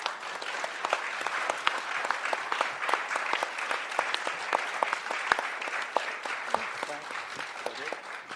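Audience members at a congressional candidate forum clap steadily, with distinct individual claps audible within a moderately sized, even round of applause.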